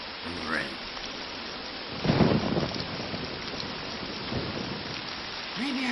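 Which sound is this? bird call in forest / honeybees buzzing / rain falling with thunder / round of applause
rain falling with thunder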